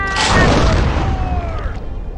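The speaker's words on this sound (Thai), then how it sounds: "ระเบิดยักษ์" A huge booming explosion in a video game about a shark attack erupts loudly, a deep rumbling blast with a swooping tone trailing off over about two seconds.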